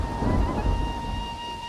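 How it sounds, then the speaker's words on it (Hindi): Heavy rain hisses steadily under a low rumble of thunder that swells and then fades, with a faint high electronic tone held throughout. "जल्दी चलते हैं, बारिश तेज हो रही है।"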